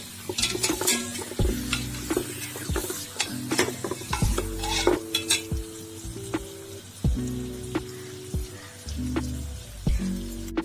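Marinated mutton sizzles and fries in onion-tomato masala inside a pressure cooker for biryani, with steady close scraping and stirring clatter throughout and no talking.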